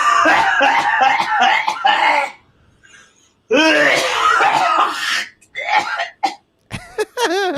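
Rough, strained coughing and throat clearing close by after choking on water, in long loud bursts with a quiet pause between, ending in shorter choked coughs.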